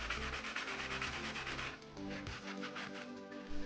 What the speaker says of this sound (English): I moved over to a sanding block to sand all of the flat faces that needed to be leveled up.